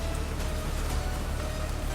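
Steady rain falls in the Himalaya mountains, a dense, even hiss of drops with no pauses, fairly loud and close, with no voices.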